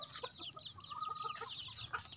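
Chickens on a small family farm cluck and call in scattered bursts, a busy low-level flock chatter with faint distant squawks mixed in, steady throughout.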